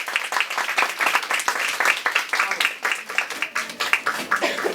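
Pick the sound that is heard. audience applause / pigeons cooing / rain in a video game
audience applause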